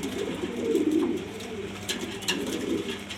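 Pigeons coo steadily nearby in a dense, overlapping murmur, the low throaty calls swelling briefly before settling into a constant background drone.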